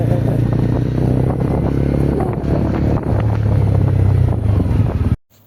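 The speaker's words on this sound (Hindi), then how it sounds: "तो फिलहाल तो अपनी अपनी गाड़ी स्टार्ट करते हैं और निकलते हैं यहाँ से चितकुल के लिए।" Motorcycles start and ride off on a winter bike trip from Kinnaur toward Chitkul, their engines giving a steady, close, loud drone mixed with wind rush before the sound cuts off abruptly.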